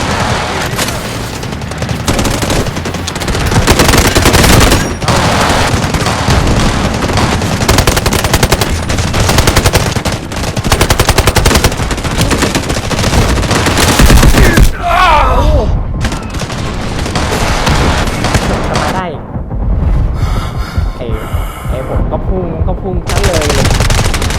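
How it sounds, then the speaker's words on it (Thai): Gunfire fills a Delta Force Mobile match, with loud rapid machine-gun bursts and single shots rattling almost nonstop and a few booms, later thinning out, while a player talks now and then. "ยังมีคนยิงหลังอีก"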